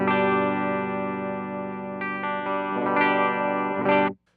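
Clean Fender Telecaster Modern Player on its humbucker through an Electro-Harmonix Platform stereo compressor pedal, a few sustained chords and picked notes ringing evenly and close, then stopping abruptly.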